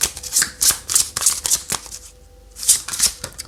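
Tarot cards being shuffled in a rhythmic series of crisp riffles and slides, about six bursts with a brief pause before the last two, close and fairly loud with no talking.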